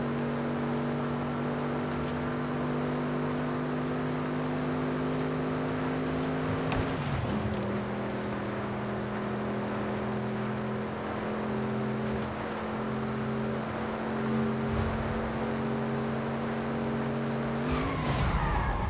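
A race car in Forza Horizon 5 held near top speed, a steady loud engine drone with one quick shift in pitch partway through and another near the end, with no talk.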